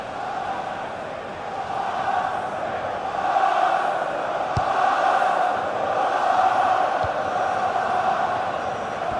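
A stadium crowd jeers during an Arsenal versus Tottenham Premier League match in FIFA 16, a broad roaring wall of voices that swells and holds, punctuated by a couple of sharp knocks.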